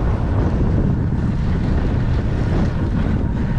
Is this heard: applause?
no